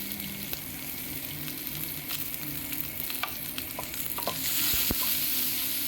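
Chopped onion fries steadily in a pan with a constant close sizzle. Scattered clicks and scrapes of stirring run through it, and the frying swells slightly louder toward the end.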